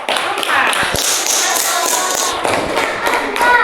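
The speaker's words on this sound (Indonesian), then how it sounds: "kita beri aplaus untuk kelompok 4" Students applaud a classroom group after its presentation in a crowded room, with dense ragged clapping that runs loud and continuous throughout.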